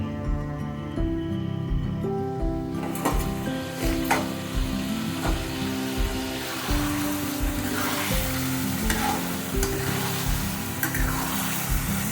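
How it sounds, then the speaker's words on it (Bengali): Soft fish pieces coated in spice masala are gently turned in a pan, giving a steady sizzle with light, unhurried scraping from the stirring and a faint, rain-like hiss throughout. "মাছ যেহেতু খুব নরম মাছ সেই জন্য খুব আস্তে আস্তে একে নাড়াচাড়া করতে হবে"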